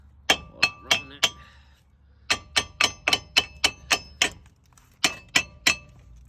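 Repeated metallic hammer blows knocking a stuck brake rotor off a 2017 Toyota Corolla, sharp ringing clangs in quick bursts of four, then seven, then three strikes, close and loud with no talking.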